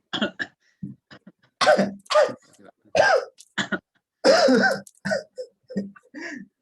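A string of short, harsh coughs and throat clearing, close up, broken by brief pauses and a few spoken sounds.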